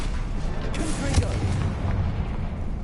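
A Confringo fire spell bursting in Hogwarts Legacy, a rumbling explosive boom with a sharp burst partway through, rolling low-end crackle around it and a voice briefly audible.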